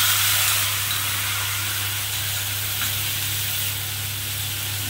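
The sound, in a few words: mustard paste with water sizzling in hot frying oil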